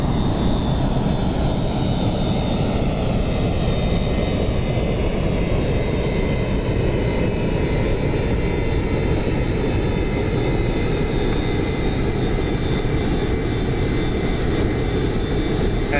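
A steady, loud roar from the jet engines of a B-1A bomber in a flight simulator game, a constant airy whine with no voices.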